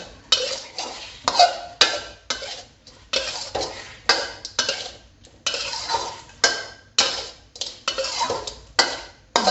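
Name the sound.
stir-frying shrimp with shrimp paste and stink beans in a pan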